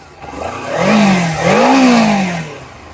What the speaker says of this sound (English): now we'll fire the motorcycle. We'll start it up